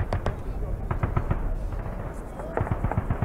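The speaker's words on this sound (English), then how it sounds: "introduce the sound of weapons." Simulated weapon fire in a virtual reality simulation, with rapid bursts of gunshot-like bangs and cracks mixed over muffled ambient noise, fairly faint in the background.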